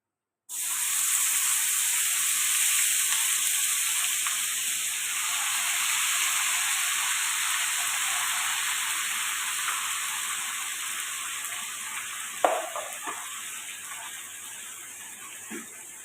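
Onion paste frying in hot ghee, a bright steady sizzle that starts suddenly and holds for many seconds, then eases slightly, with a few faint clinks of a utensil near the end.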